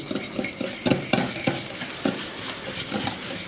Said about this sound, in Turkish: Yağ ve şekeri birazcık çırpacağız ki Şekerimiz hafiften erisin